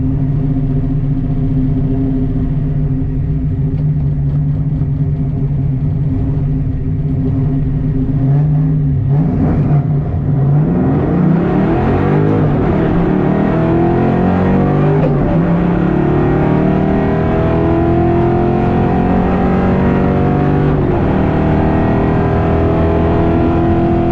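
Ford Mustang on a drag strip, its engine loud and close throughout: a steady drone, then a rising roar through the gears, holding high as the driver rolls off the throttle.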